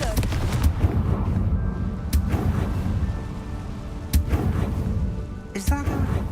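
A fire spell blast in Hogwarts Legacy, with loud explosive bursts and booms over a rumbling game soundscape, under speech.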